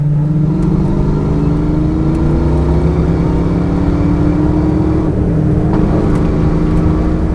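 A 1987 Ford Mustang GT with a 5.0 V8 and five-speed manual pulls after a downshift into second, its engine droning loud and steady as the pitch climbs gradually under throttle, heard from inside the cabin.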